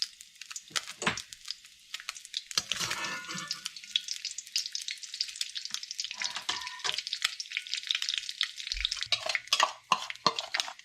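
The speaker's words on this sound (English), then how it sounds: "we're gonna add back some oil there now to cook our seam" Seim beans fry in oil in a pan, giving a continuous crackling sizzle with scraping stir sounds and a few knocks throughout.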